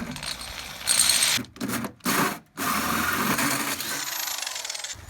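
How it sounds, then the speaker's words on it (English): A 4.5 inch hole saw cutting a hole through a Jeep body panel, a harsh grinding rasp broken by several short pauses early on, then a long steady cutting drone that gradually eases off. "We got a hole saw that's gonna cut that right out for us."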